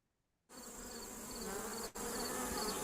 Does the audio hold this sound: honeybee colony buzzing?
yes